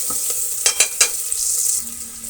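Onions frying in a sambar tempering with rock salt, a soft hissing sizzle broken by a quick burst of three or four stirring scrapes.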